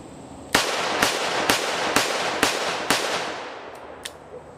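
Kimber K6XS alloy-frame six-shot revolver fired one-handed, six sharp, loud reports in a steady rhythm about half a second apart, followed by faint clicks.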